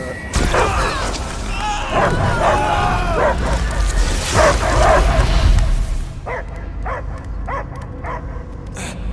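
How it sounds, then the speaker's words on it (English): A creature barks and yips repeatedly in Marvel's Guardians of the Galaxy video game, with loud bursts over rumbling game effects and then a quieter run of separate barks near the end. "I hear only barking."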